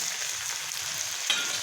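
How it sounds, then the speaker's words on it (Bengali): Fried potatoes go into a sizzling chicken curry in a pan, giving a steady, close frying hiss with a brief louder burst near the end. "আলুগুলো এখন দিয়ে দেব।"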